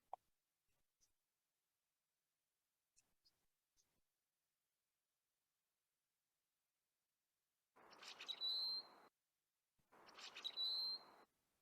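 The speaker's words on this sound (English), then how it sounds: "And the males have songs, basically two song types, one of a lower pitch and one of a higher pitch." Two loud male landbird songs, one pitched lower and one higher, each a buzzy burst about a second long, separated by a short gap and preceded by a few faint, scattered chirps.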